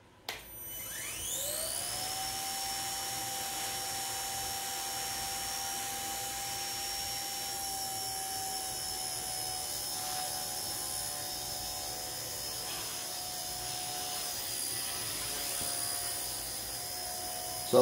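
Blade Nano S3 micro RC helicopter rotors spinning up from a standstill, a high whine that climbs in pitch over the first two seconds, then holds steady, loud and close, with no talk.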